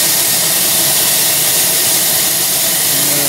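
The steam blower on a coal-fired steam engine roars loudly and continuously, a dense close hiss with no pauses or voices.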